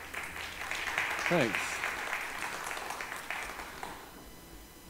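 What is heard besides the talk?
audience applause at church service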